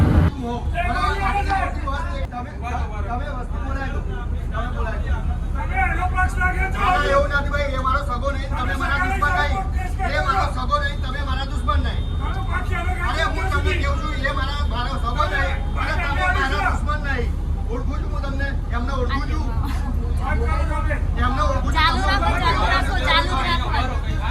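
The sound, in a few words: inside a crowded BRTS city bus in Ahmedabad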